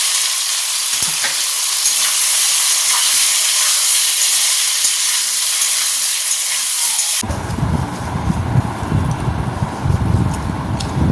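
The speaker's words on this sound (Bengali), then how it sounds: "কালো জিরেটা ভাজা হয়ে গেছে, এবার এই যে সিদ্ধ করে রাখা কচুটা দিয়ে দেবো।" Boiled taro is tipped into a pan of frying black cumin, a loud steady sizzle and hiss that suddenly drops into a rougher, crackling frying sound partway through, close and without talk.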